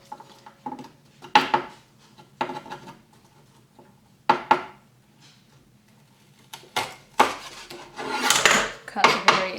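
A kitchen knife trims the ends off garden-grown greens, producing scattered sharp taps and knocks on a board separated by quiet gaps, then a busier cluster of cuts and scraping toward the end, close by and without speech.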